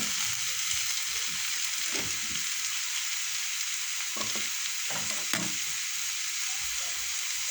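Ground meat for a manti filling fries in a pan with a steady, close hiss and crackle, broken by a few soft scrapes of stirring; no one speaks.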